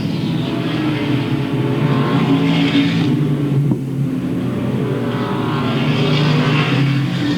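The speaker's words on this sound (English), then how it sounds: "As they race over to turn 3 and over to turn number 4 and back onto the front straightaway." Late model race cars circle a speedway track in 1997 at Louisville Motor Speedway, their engines droning in waves that swell and recede as the pack passes through the turns at a distance.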